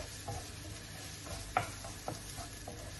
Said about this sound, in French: Je fais revenir mon oignon et je rajoute le fenouil coupé